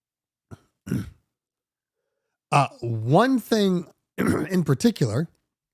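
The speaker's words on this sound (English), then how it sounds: "I clear my throat, it comes back." Throat clearing, a short rough rasp followed by someone speaking in a deep voice.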